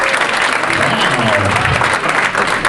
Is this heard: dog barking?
no